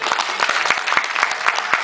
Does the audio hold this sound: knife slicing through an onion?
no